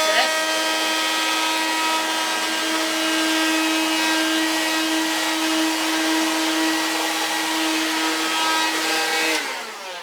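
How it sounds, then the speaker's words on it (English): A vacuum cleaner runs over model railway ballast on a Hornby Trakmat layout with a steady, loud motor whine and airy rush that holds for about nine seconds before cutting off. "vacuum cleaner, just soften it."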